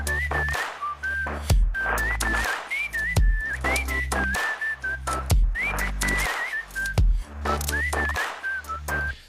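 A whistled melody in an electronic drop passes through the Soothe resonance plugin, a bright wavering tune of short phrases over a thumping low beat and bass that repeat steadily throughout.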